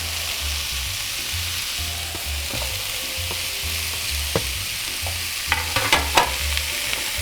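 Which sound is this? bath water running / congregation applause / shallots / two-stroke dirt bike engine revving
shallots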